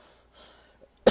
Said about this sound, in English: The cough is starting up again